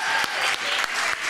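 An audience gives a school children's choir a loud, sustained round of applause, dense clapping filling the room with no pauses.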